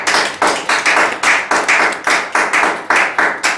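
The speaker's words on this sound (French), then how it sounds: "Acclame pour le Seigneur." A church congregation claps in unison for the Lord, loud close rhythmic handclaps at a steady brisk tempo, about three per second, with no talking.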